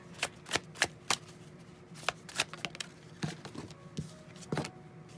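Tarot cards being shuffled up close: a string of crisp, papery riffles and slaps in irregular bursts, some louder than others, with quiet gaps between them and no talking.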